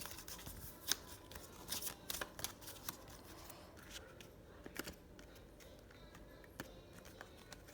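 Oracle cards being shuffled and handled close up: quiet papery riffles, slides and soft taps in irregular bursts throughout, with no talk.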